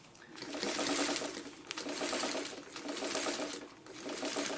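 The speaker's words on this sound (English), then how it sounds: "as you notice, I'm sewing right over my pins" A sewing machine stitches a curved quilt block straight over the pins, running in steady whirring bursts of about a second each with a brief pause between runs, close and clear.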